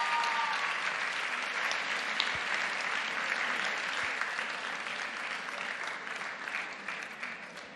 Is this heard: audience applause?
yes